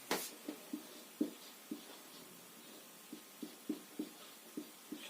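Handwriting on a board or page during a Hindi grammar lesson, a dozen or so short, soft strokes and taps in an irregular rhythm, close and quiet with no talk.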